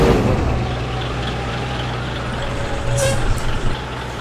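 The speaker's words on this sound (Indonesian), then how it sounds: "Kalian bisa dengar tuh suara engine dari Mercy itu bagaimana kendaraan" A Mercedes bus engine in the mobile game BUSSID rumbles at a steady, loud low drone, with a brief rise in intensity near the end.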